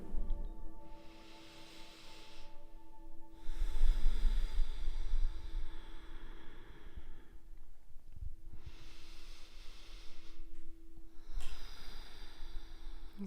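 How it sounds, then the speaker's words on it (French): Slow, deep breaths drawn in and let out over several unhurried cycles during a sophrology relaxation session, soft and close, with quiet pauses between them and faint sustained music tones underneath. "Vous pouvez commencer en prenant quelques respirations plus profondes."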